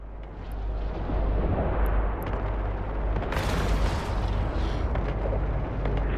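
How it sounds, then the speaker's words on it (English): Ship weapons open fire in the space game Eve Online, a dense, continuous roar of blasts and booms with a sharp burst of crackling impacts midway, loud and sustained throughout. "Once we get within 5 kilometers, we'll be able to start shooting."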